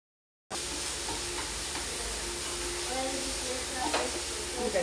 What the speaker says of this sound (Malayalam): ഇത് ഗോൾഡൻ വഴറ്റി കൊടുക്കണം